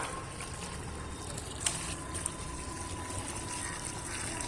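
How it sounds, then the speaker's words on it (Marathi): A full bucket of water poured onto a young mango sapling planted in fertilised soil gives a steady, soft gushing and trickling, close and unbroken, with no talk. "हे पूर्ण बादलीभर पाणी त्याला टाकून देतो"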